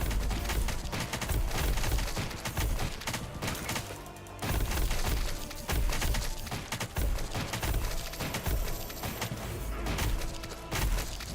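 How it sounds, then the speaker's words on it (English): Chaotic video game combat in When the Light Dies, with a grenade blast amid a dense stream of bangs, crashes and shattering impacts, loud and continuous with a brief lull near the middle. "Let me use my grenade."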